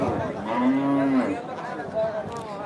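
A single dairy cow at a cattle market moos once, a drawn-out low call up close, followed by quieter background noise.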